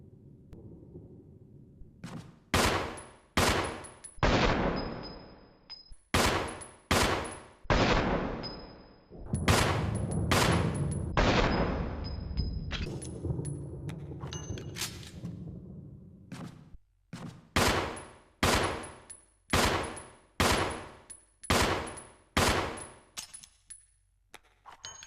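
Samurai Edge handgun, a Beretta 92F, fired in the Resident Evil REmake video game: a long series of single sharp gunshots, each ringing out with a decaying echo, spaced in a steady rhythm with brief pauses, loud and close.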